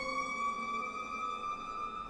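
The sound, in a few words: emergency vehicle siren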